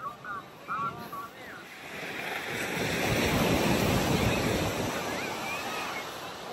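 Sea waves surging at Bagasbas beach, a broad steady wash of surf that builds and holds loud through the second half, with wind buffeting the microphone and faint voices early on.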